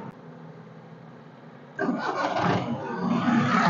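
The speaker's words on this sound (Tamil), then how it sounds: "வாங்க வண்டியோட இன்ஜின் சவுண்ட் எப்படி இருக்கு அப்படிங்கிறத பார்ப்போம்." A quiet hum gives way to a 2004 Maruti 800 petrol engine cranking and catching, then running with a rising, rough roar up close.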